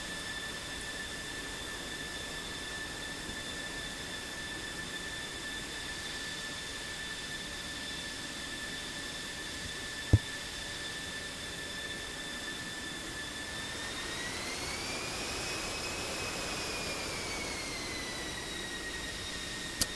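A jet aircraft in a flight simulation game taxis with a steady whining engine tone that holds level, then swells and rises in pitch toward the end, faint and unbroken.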